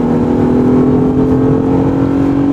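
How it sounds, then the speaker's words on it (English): A steady, loud engine drone from a 2013 Lexus GS 350 heard from inside the car, holding a strong even tone under aggressive acceleration without a break. "when you accelerate in a more aggressive fashion, you'll hear the engine sound coming into the cockpit area"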